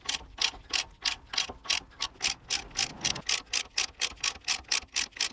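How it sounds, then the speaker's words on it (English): A ratchet with a 13mm socket clicks steadily and rapidly, about three clicks per second, as it tightens bolts on a Toyota Land Cruiser rear axle flange, close and distinct with no talking. "So you can see there that as I do up those bolts,"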